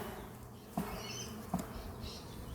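Honeybees buzz around an open hive during a honey harvest, a faint, steady hum broken by a couple of soft knocks.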